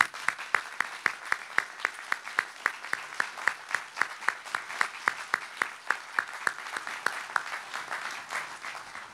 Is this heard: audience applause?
yes